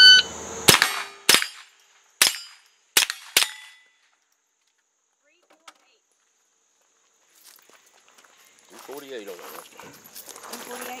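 Gunshots at a shooting competition: five sharp, loud shots fire in quick succession, then a pause and a faint click, with voices talking toward the end.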